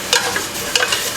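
White roux of butter and flour cooking gently in a pan over low heat, a close soft sizzle with two brief scraping strokes of a spoon stirring the paste.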